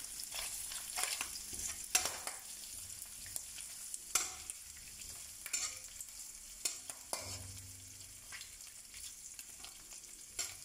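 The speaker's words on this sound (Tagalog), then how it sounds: "Gigisa na tayo." Onion and garlic sauté for pancit canto, with a steady sizzle of frying in a pan broken by repeated scraping and clacking strokes of a stirring utensil, close up.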